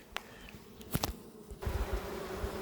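Honey bees buzzing at a beehive, with a steady close drone and a few sharp passes of individual bees flying by the microphone, no talking.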